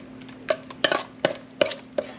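A metal spoon clinks against a bowl while zucchini fritter batter is mixed, five crisp ringing taps at a steady, unhurried pace, close and clear in a quiet kitchen.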